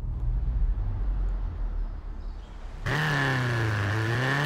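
Ford Racing Puma retro rally car in Forza Horizon 4 starts as a quiet low engine hum, then bursts into a loud, steady high-revving engine drone with strong harmonics held to the end.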